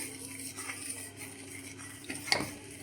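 Milk in a pot with cardamom powder being stirred in produces soft, faint spoon scraping and a sharper metal clink near the end, close by and quiet.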